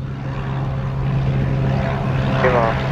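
A Cessna propeller airplane taking off at Montego Bay, Jamaica, its engine droning steadily with a strong hum, heard from nearby under faint radio chatter.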